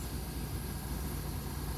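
A Mercedes bus engine idles at Brasília's interstate bus station, a steady low rumble that runs continuously at close range with no talk over it.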